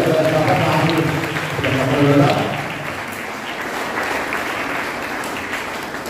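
A church congregation at Holy Mass claps steadily while a voice speaks over the first two seconds, then the clapping carries on alone, dense and even, gradually easing in loudness.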